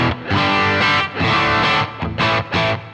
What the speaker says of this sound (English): Now the next thing I want to do is to add a boost pedal in.